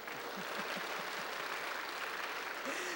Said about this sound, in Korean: 박수 좀 쳐라, 박수 좀.